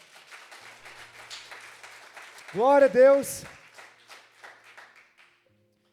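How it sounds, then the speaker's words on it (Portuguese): A church congregation applauds during a sermon: a steady patter of clapping runs beneath a preacher's loud, ringing exclamation and continues softly afterward. "dê uma salva de palmas"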